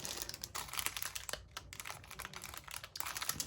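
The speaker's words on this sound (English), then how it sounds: "That crinkling is probably so loud for you." Plastic packaging of bridal embellishments is handled up close, giving irregular crisp crinkles and rustles in quick bursts, fairly quiet, with no one speaking.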